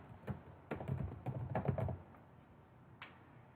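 Computer keyboard typing headings into a Word document, a few quick runs of soft key clicks then a pause and one last tap, quiet and close with no talking.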